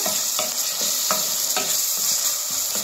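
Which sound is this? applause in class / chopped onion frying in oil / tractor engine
chopped onion frying in oil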